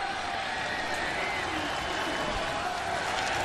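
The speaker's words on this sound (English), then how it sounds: "We hear the crowd reaction to the green light" Dense stadium crowd noise at a college football game, Oklahoma against UTEP, swelling in a steady broadband roar as fans react to a fourth-down go-for-it call; no distinct voices stand out above the mass of cheering.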